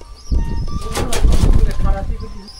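Pigeons flap their wings and coo in a flock kept on a remote river island, a burst of fluttering wingbeats rising over soft calls while voices murmur nearby.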